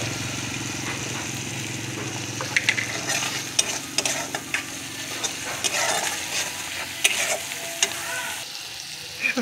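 Spices with turmeric, chili powder, salt and cumin frying in a pan, stirred with a soft, steady sizzle broken by light clinks and scrapes of a utensil, with no talking.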